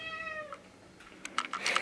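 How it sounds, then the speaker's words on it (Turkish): A cat gives one drawn-out meow in the background at the start, followed by scattered clicks and taps in a quiet room. "Kedimin sesi geliyor arkadan."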